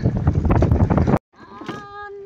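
Strong wind and rain buffet the microphone outdoors near a fishing boat, a loud, turbulent roar that cuts off abruptly, followed by quieter ambience with faint tonal sounds.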